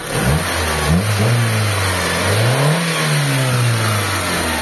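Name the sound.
Mitsubishi Lancer car engine revving after carburetor cleaning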